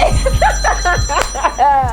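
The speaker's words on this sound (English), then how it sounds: "Whose phone is that?" Inside a barber and beauty shop, a mobile phone rings with a short repeating melodic ringtone, bright tones rising and falling under people talking nearby.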